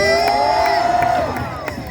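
A crowd at a freestyle X-Games exhibition in Toronto cheering and whooping, a dense roar of voices with some tonal game-show style music over it, loud throughout and easing slightly near the end.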